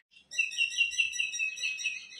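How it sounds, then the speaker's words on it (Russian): Small birds chirp and tweet outside an apartment balcony in Ashdod, a bright, continuous run of clear, fairly close calls after a brief faint note, with no talk. "птички поют при этом"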